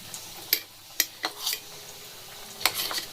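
Double-coated vegetable chops slide into hot oil over a low flame, giving a faint, steady sizzle broken by a few sharp clicks and ticks as pieces go in.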